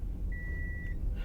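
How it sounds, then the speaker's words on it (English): A manual car's seatbelt warning chime sounds as a single steady electronic beep lasting over half a second, clear over the low rumble of the engine and road while driving. "safety belt, and it gives me that alarm"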